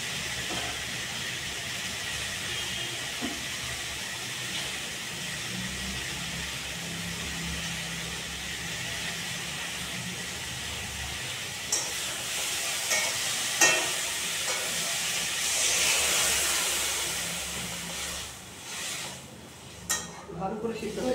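Water poured into a simmering mixed-vegetable curry in a pan sets off a broad, steady hiss of steam and sizzle that swells loudest near the end, with faint clinks of stirring and utensils.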